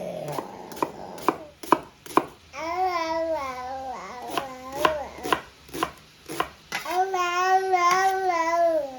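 A knife chops a red onion on a cutting board in quick, sharp, evenly spaced strokes, close and crisp, while a young child babbles and coos loudly over the cutting.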